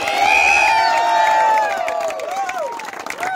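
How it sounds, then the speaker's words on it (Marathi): A crowd at a cricket tournament prize ceremony cheers and whoops loudly for an award winner, with high shouts rising and falling over a dense crowd roar. "जोरदार त्याच्यासाठी टाळ्या वाजवा"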